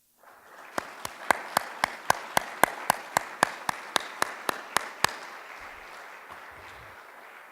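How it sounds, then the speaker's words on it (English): Audience applause for elected officials at a National Vietnam War Veterans Day ceremony: a crowd claps steadily while one close clapper keeps a loud, even rhythm for about five seconds, then the applause thins and fades away. "please rise and accept our applause for your service to our state, city, and country"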